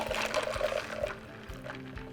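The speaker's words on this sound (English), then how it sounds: "you can pour this all directly into your finished cup" A strawberry and citrus drink with sweeteners is poured from an aerating container into a finished cup, a soft, quiet liquid splash and trickle lasting about two seconds, fading slightly toward the end.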